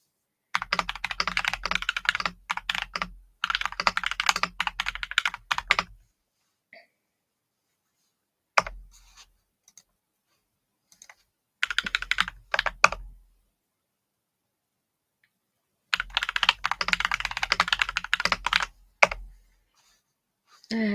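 Rapid clattering keystrokes on a computer keyboard, close and fairly loud, arriving in several dense bursts of a few seconds each, separated by quiet pauses with only a stray click or two.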